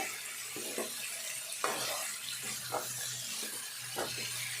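Chicken pieces stirred into a pot of Telangana-style chicken curry, with short scraping and sloshing strokes and a light sizzle, close and steady with no talk.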